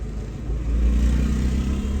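A car's engine revs in first gear after decarbonizing, a loud, close, low rumble that swells and holds steady, with no talking.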